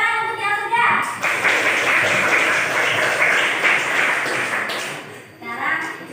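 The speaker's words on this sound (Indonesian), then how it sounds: "Tepuk tangan untuk yang sudah." Clapping from students in a mathematics classroom, a brief burst of many hands under a teacher's voice, with children's talk around the edges.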